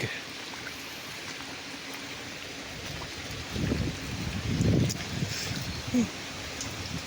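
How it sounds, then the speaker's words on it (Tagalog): Strong typhoon wind gusts roar over rushing floodwater in front of a farm house, steady noise swelling into louder bursts in the second half; a person speaks briefly. "Ayan po ang hangin, malakas."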